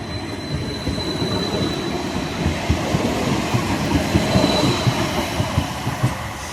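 Tram 2554 pulls away from the Blackhorse Lane stop with a loud rolling rumble, steady rhythmic wheel clicks over rail joints and a faint high squeal, growing slightly as it gathers speed.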